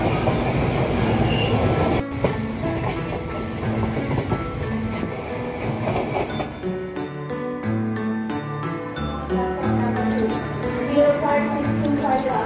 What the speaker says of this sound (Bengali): রাতে ট্রেন চলার শব্দ